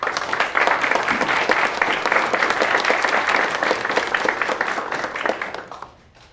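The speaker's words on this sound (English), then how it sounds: "How about one more round of applause for Dr. Threefold?" Audience applause following a Fulbright scholar's talk on Buddhist economics: a long, loud round of many hands clapping that holds steady for several seconds, then tapers off quickly into quiet near the end.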